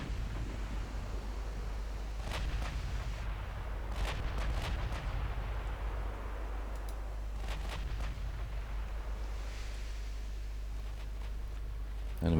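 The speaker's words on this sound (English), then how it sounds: "Let's open fire." Naval broadside artillery fire in the Ultimate Admiral Dreadnoughts game comes as a series of booming shots under a constant low rumble, several clustered together, with no talk.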